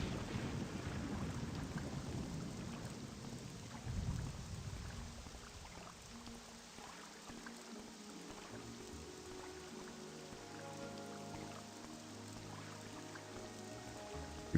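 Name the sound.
rain and thunder in video game Modded Morrowind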